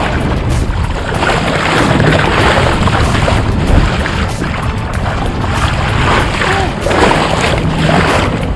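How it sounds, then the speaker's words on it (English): A fishing boat pounds through heavy ocean swells, a loud continuous roar of engine, water rush and wind buffeting the microphone, with occasional thumps as the hull hits waves. "These swells are getting nasty."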